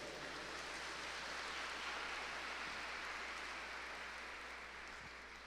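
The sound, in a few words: congregation applause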